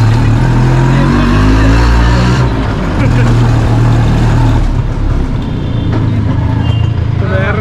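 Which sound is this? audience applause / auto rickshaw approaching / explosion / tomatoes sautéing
auto rickshaw approaching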